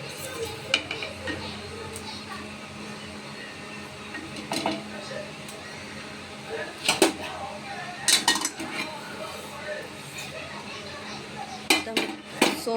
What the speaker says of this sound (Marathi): तर बडीशोप पण भाजून घेऊया